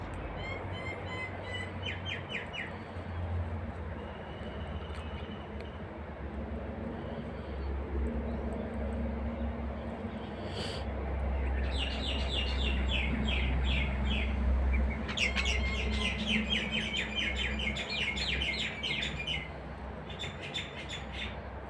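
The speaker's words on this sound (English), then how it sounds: "Can you hear the bird singing?" Birds sing outdoors during basket weaving, their bright chirps and trills coming in clustered bursts over a steady low rumble, moderately close and clear.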